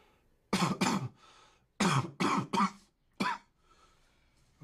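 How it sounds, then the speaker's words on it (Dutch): A man coughs several times at a doctor's request in a quiet room, with one short cough, then a cluster of three harsh coughs and a final single cough, each clear and close. "En hoest u eens?"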